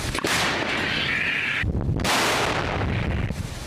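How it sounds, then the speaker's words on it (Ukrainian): Heavy booming blasts of artillery cannon fire in wartime combat against an armored column, loud and close, with a rumbling roar that carries through the whole stretch and a brief lull in the middle. "Гармата!"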